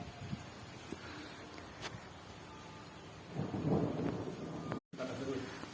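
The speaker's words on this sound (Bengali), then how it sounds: "দেখছো কিরকম বাজ পড়ছে।" Thunder rolls through a rainstorm, a low rumble swelling midway over a steady hiss of rain and wind, fairly distant and not loud.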